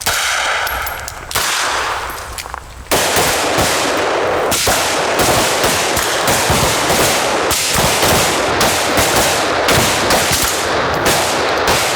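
AR-15 rifle fitted with a red dot sight fired at an outdoor range during zeroing, loud sharp reports in close succession layered with other shooters' gunfire, near and dominant.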